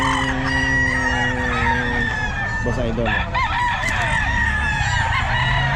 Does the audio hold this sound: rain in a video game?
no